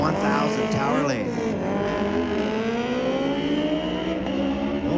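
Yamaha R1 1000cc and 2005 Suzuki GSR 1000 motorcycles drag racing on a street legal drag strip, their loud engines revving hard with a rising, sweeping pitch throughout.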